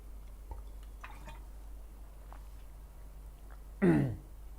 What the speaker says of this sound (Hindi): थोड़ा पानी पी लें यार, पानी पी लिया जाए।